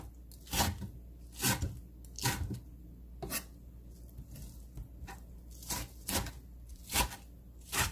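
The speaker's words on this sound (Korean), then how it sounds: "삶은 미나리를 먹기 좋은 크기로 잘라주세요." A knife cuts through boiled water dropwort (minari), making about nine soft, close, irregularly spaced chops, with quiet pauses between them and no voices.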